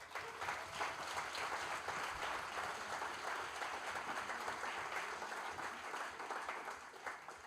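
A crowd at a university product-development design fair applauds its project partners: an even, continuous wash of clapping, fairly soft and distant, holding steady for several seconds without voices.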